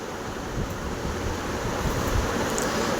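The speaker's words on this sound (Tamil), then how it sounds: "இது நல்லா கொதி வரட்டும்." Jaggery syrup bubbles in a pan with moong dal, being cooked for instant kolukattai sweets; a steady, close broadband hiss and simmering rumble continues evenly throughout, with no voices.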